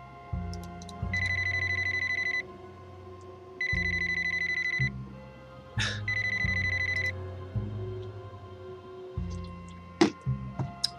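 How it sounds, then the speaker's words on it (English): A telephone bell rings in repeated electronic bursts with pauses between them, loud and alone, inside the point-and-click crime mystery game The Death of Erin Myers. "I want to answer the phone, but I don't see a phone."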